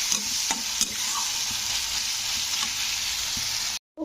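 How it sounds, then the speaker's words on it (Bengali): Sliced onions sizzle and fry in a pan while being stirred, a steady bright hiss with occasional scraping knocks from the stirring, close up, then a brief cut to silence near the end. "পেঁয়াজটা এবারে লাল করে একটু ভেজে নিতে হবে।"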